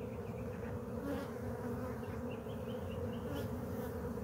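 Honey bees in a Layens hive give off a steady, dense buzzing drone that carries on without a break, close and even in level, with no voices over it.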